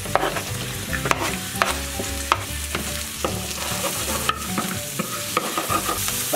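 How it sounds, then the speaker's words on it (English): Onion frying in hot oil: a steady, fairly loud sizzle with repeated stirring scrapes and clicks at an uneven pace, a steady tonal layer running underneath, and no talking. "Let the onion fry up for about 2 minutes and then add the tofu."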